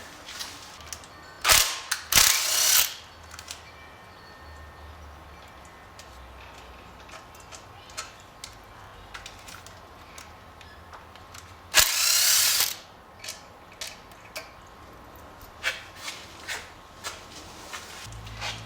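Screws being removed from the electrical components of a 1973 Honda CB100 motorcycle, a series of small clicking, ratcheting mechanical taps with two louder bursts of handling noise, close and without speech.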